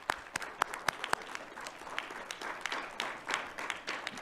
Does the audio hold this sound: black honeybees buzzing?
no